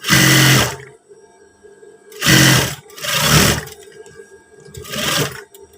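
Sewing machine stitching seams on long PDL-style trousers with flap pockets, running in four loud bursts of steady whirring and clatter, separated by quiet pauses with faint handling noise; no talking.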